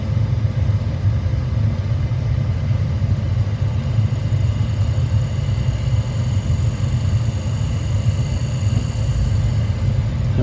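A small electric motor wired into a simple circuit runs continuously, producing a steady low hum and buzz at constant level from start to finish, with no voices.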